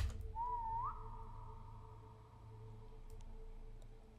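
A single player's whistle in the Roblox game SCP 3008, set in an after-hours IKEA, rises in a smooth sustained tone for about half a second, then lingers faintly over a low steady hum.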